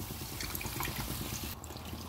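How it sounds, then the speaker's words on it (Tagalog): Water poured into a pot of chicken feet tinola with onion and ginger, a continuous close gurgling pour that holds steady for about two seconds, with no talking. "dagdagan na natin siya ng tubig"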